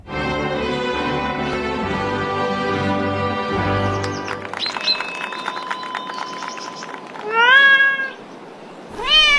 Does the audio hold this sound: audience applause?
no